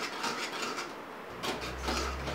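A spoon stirs thick pumpkin pudding with corn flour in a pan, producing close, repeated scraping and clinking strokes against the metal in two bursts.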